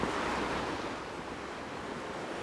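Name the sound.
ocean waves on a rocky beach, Jeju Olle Trail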